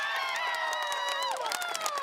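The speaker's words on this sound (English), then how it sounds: "The crowd is just loving it as well. Full house here for this matchup." Crowd at a VALORANT Game Changers Championship esports match in a Berlin arena, cheering and shouting loudly as a continuous roar under layered, rising voices, with scattered claps mixed in.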